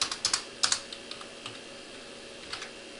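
Typing on a computer keyboard while building a CSS web template: a handful of quick, light key clicks in short bursts, close and fairly quiet, with pauses between strokes and no talking.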